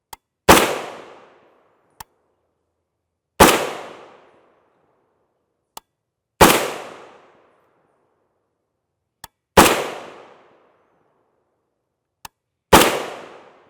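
A 10.5-inch M92 PAP rifle in 7.62x39mm firing 124-grain FMJ rounds, five loud, sharp shots spaced about three seconds apart, each with a short decaying echo and a faint click between shots.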